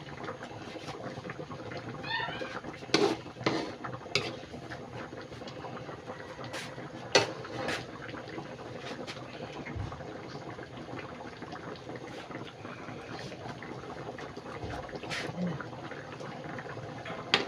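Coconut milk (gata) boiling in a pot for chicken curry gives a faint, steady bubbling simmer, with occasional clinks and small kitchen knocks nearby.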